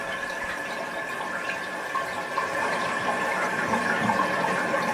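A toilet flushes, and water drains with a steady, fairly loud rushing and gurgling that continues close by without pause.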